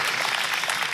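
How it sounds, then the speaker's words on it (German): A brief burst of church audience applause, dense steady clapping from many hands filling the room for about a second, with no voices on top. "Lass uns Thomas Applaus geben"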